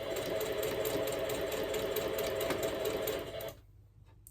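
A sewing machine stitches fabric onto a handmade bookmark, a steady close mechanical whir that runs for a few seconds and then stops abruptly.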